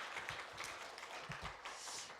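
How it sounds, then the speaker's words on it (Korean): A Korean Baptist congregation claps during a Sunday worship service in Boise, a soft, continuous patter of many hands heard from a distance with no talking over it. "하나님께 감사의 영광 박수 돌려드리겠습니다."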